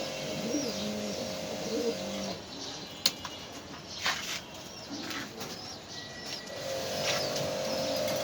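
Racing pigeons in a Dhaka loft coo in soft, repeated bursts near the start and again at the end. Sharp clicks, flutters and wing flaps break in during the middle.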